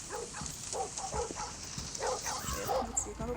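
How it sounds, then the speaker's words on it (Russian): Dog barks and yips from the video game Metel, several short bursts scattered through continuous talk and game sound. "Собака нас куснула."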